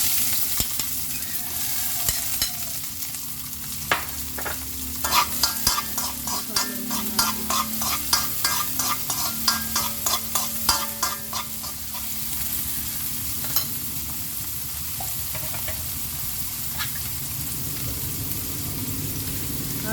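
Onion and garlic fry in a pan, sizzling steadily while a utensil stirs them in bursts of scraping, clattering strokes; no one talks.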